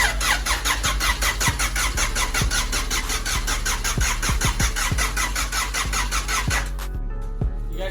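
A fully built, high-compression Honda B20 VTEC engine in a car cranks over rapidly with a loud, repeated whirring. The cranking runs for several seconds, then stops abruptly and is followed by a lower, steadier rumble.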